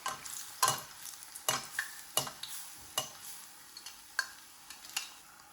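Bread and egg fry in ghee in a pan, a soft sizzle punctuated by a series of sharp scraping stirs and taps at irregular intervals, fairly quiet and without talk.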